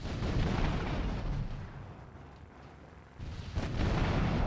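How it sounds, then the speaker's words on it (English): An explosion in the video game GTA3, heard as a loud, rumbling burst that fades over a couple of seconds before a second heavy boom rolls in. "Nice, no double explosion."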